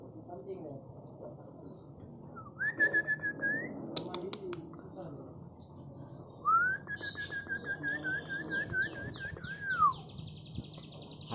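A canary whistles in two clear sustained rising-and-gliding phrases, moderately loud and close, over a murmur of background chatter and room noise.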